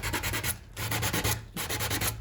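Sandpaper rubs by hand across a wooden door threshold in four quick rhythmic back-and-forth strokes, close and scratchy, with brief pauses between bursts.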